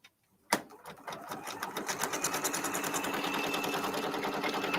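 A Brother PRS 100 embroidery machine starts stitching after a soft click, its fast, even needle chatter settling into a steady rhythmic whir that continues loud and close without talk.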